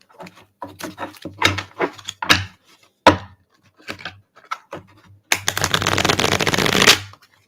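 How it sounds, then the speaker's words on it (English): A liminal space tarot deck being shuffled by hand, with repeated crisp riffling bursts of card-on-card clicks and flutters, ending in one long, loud continuous riffle, close by with no talking. "Oh, shuffles so much better."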